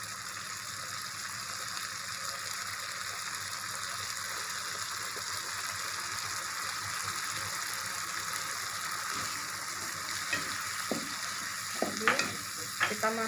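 Durian flesh cooks in a frying pan with a continuous steady sizzle, then stirring scrapes and clacks grow louder toward the end, with no voices.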